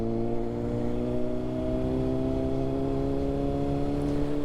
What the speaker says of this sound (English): I have to short shift because this thing is hideously loud.